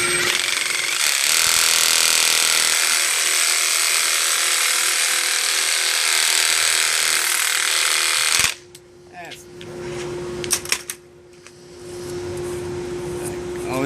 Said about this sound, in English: Always clean those burrs off real well